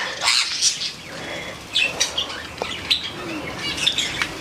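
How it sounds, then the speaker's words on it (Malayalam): Small birds in a home aviary chirp and tweet in scattered bursts, with occasional squawks and faint wing flutters over a soft background hiss, moderately close. "നമ്മളെ കിളികളെല്ലാം വന്നിരിക്കുന്നുണ്ട് കേട്ടോ"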